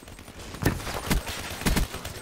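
Gunfire from a weapon in Call of Duty Black Ops III, heard as a few separate sharp shots spaced about half a second apart over a steady background of game noise.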